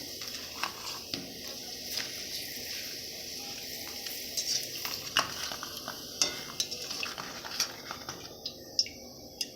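Papad frying in hot oil, a steady sizzle with scattered crackles and occasional utensil scrapes and stirring clatter, close and moderately loud with no talk.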